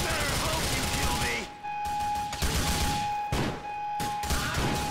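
Gunfire in Grand Theft Auto 4: The Lost and Damned: bursts of rapid automatic shots in several volleys separated by short gaps, moderately loud, with a steady tone running underneath.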